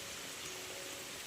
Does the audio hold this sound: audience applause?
no